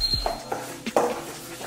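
Pancake batter made from powdered mix is stirred in a bowl, giving a few sparse, light clinks and scrapes of a utensil against the bowl, close by with quiet gaps between.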